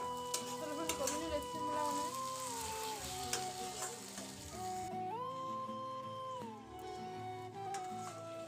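A pan of meat curry sizzles and frying food is stirred, a soft, steady crackle with faint scraping, while a clear tonal melody plays over it.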